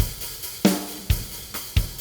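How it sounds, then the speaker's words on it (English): Drum wave files playing on a Ketron SD-90 arranger with the pads switched off, a few spaced kick and snare hits in a slow steady pattern, clear and alone. "what you're hearing now is you're hearing the drum wave files that I copied in"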